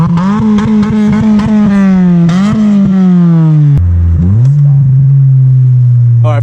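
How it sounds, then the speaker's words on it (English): A 2004 Honda Civic Si with a straight-pipe exhaust revs hard and loud, the engine climbing and dropping through several sharp throttle blips before settling into a raspy, droning idle, close and with no talking. "you can listen real quick of what it sounds like when it's straight pipe right now"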